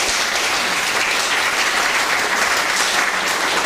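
Steady, dense audience applause at a book presentation, loud and continuous throughout with no talk over it.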